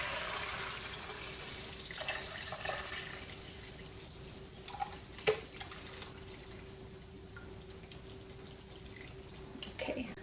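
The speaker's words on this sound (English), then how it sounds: "I'm going to take my milk and I am going to strain it." Milk for Greek yogurt is strained through a colander-like fine mesh sieve, giving a faint, quiet trickle with scattered drips and a few soft splashes close by.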